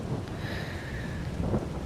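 Steady rain and rumbling thunder in the farming game Farming Simulator 22, a continuous wash of rainfall with a low roll of thunder swelling near the end, no voices.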